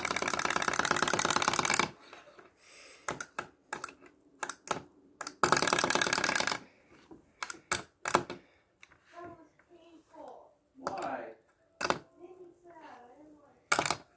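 A vintage wind-up soccer ball toy buzzes loudly as its clockwork runs, starting with a continuous whir, then stuttering in short bursts and clicks among spoken comments.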